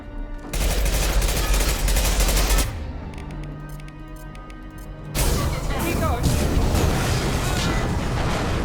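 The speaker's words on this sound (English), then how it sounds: "That blew it up! We detonated it!" Mass Effect 2 combat with sustained bursts of rapid gunfire and booming explosions, loud and dense, easing briefly in the middle before another heavy barrage, with voices talking over the battle.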